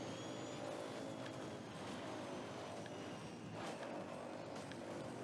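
Racing car engines in a video game drone and rise steadily, a continuous motor roar growing as cars approach from behind, fairly faint overall.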